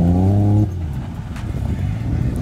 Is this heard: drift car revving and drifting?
yes